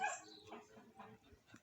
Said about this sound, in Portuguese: tem muitos cachorros aqui, nós vamos ter que tomar cuidado.